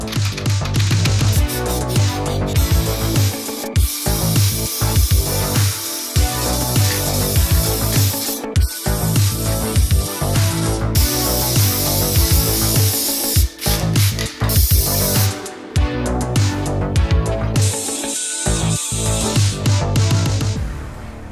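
Short hissing bursts from a spray can of primer repeat at close range, broken by brief pauses and small clicking, rattling handling noises, as tiny vinyl street-art toys get primed.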